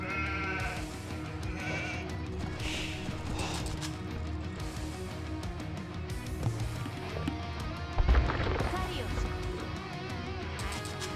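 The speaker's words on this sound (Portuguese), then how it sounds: "Ali estão minhas últimas duas ovelhas." Sheep bleating in Age of Empires 2 HD, short game bleats among clicks and game effects and music, with a player talking over it.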